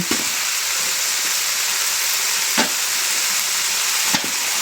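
Sliced squash dropped into a hot pan of sautéed vegetables, giving a loud, steady sizzle and hiss throughout with a few sharp crackles and pops, close and without talk.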